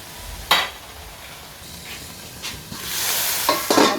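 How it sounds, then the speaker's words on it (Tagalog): Alamang (shrimp paste) cooks in a pan with a soft steady sizzle, broken by a few sharp scrapes and stirs of a utensil against the pan. No one speaks. "Palulutuin natin yung alamang."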